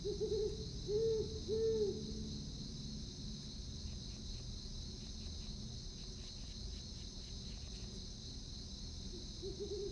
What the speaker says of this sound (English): Only attack when the owls hoot.